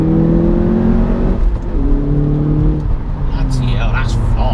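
An Audi S1 with 330 bhp, set to dynamic mode, accelerates hard with a steady, loud engine note rising in pitch, while someone talks over it throughout.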